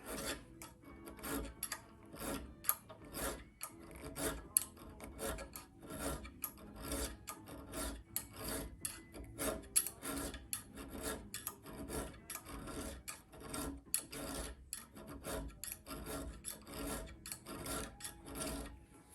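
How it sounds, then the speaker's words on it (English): A hand file rasps over a metal knife guard in quick, rhythmic back-and-forth strokes, close and fairly quiet, keeping an even pace throughout with no voices. "Just take a file, start working down."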